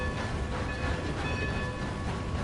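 A train running in a Western-themed video game rumbles steadily throughout, a continuous rolling rail noise with faint tonal lines above, fairly close and constant with no breaks.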